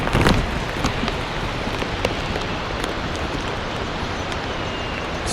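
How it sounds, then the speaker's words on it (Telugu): Light rain falls during a Himalayan trek to Kedarnath, a dense, steady hiss of drops around the listener with occasional sharper taps and no talking. "వర్షం పడతా ఉంది, లైట్గా చినుకులు పడతా ఉన్నాయి"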